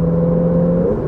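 A Ferrari 488's twin turbochargers spin up with a steady whirring tone over a loud, close engine drone, a single short sustained whine without talk.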